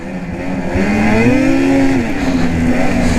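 A 2020 Ski-Doo Backcountry XRS snowmobile engine drones loud and close, its pitch climbing and then settling as the sled revs and rides, with steady engine roar throughout.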